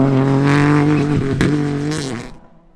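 A Peugeot 208 Rally 4 car on a rally stage, its engine droning loud and close with steady harmonics, dipping briefly as it shifts, then fading quickly as it moves away.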